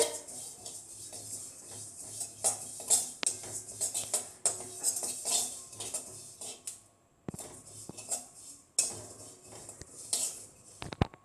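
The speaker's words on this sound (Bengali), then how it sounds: "দেখো তিলটা ভাজা হচ্ছে তিলটা লাল হয়ে গেছে" Sesame seeds toasting over medium-low heat in a pan for Bangladeshi chitoi pitha, with dry rustling and repeated metallic scrapes and clinks of a utensil against the pan, close and fairly loud, no speech.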